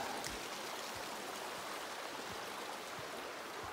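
Steady, continuous rush of a mountain stream running over stones in Mount Robson Provincial Park, Canadian Rockies, with faint low thumps underneath; no voices.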